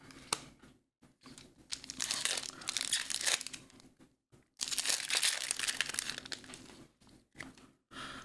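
Crinkly plastic foil wrapper of a Magic: The Gathering Modern Horizons 2 collector booster pack is torn open and crumpled up close, in several rustling bursts separated by short pauses.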